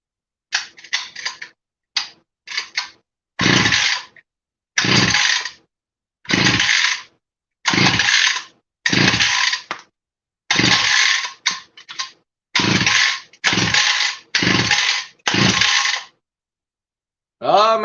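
A small engine with a freshly refitted carburetor is pull-started over and over without catching, about a dozen loud rasping recoil-cord pulls separated by short silences, close to the listener.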